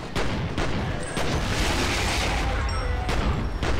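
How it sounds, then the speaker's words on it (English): Dense bursts of gunfire and booming explosions in the video game F.E.A.R. crackle continuously, loud and chaotic, with sharp blasts punctuating the barrage. "so much explosions"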